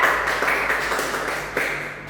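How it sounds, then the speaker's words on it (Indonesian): A class of children claps together in a classroom, a steady, fairly loud wash of overlapping claps lasting about two seconds. "Tepuk tangan ya"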